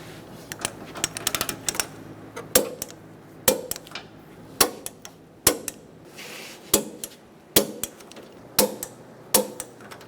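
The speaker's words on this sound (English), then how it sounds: "Torque the top bumper bolts to 73 foot-pounds." Wrench tightening the top side-bumper bracket bolts on a 2014-2018 Chevrolet Silverado 1500 to 73 foot-pounds: crisp, close metallic clicks that fall into a steady, roughly once-per-second rhythm after a quicker flurry at the start.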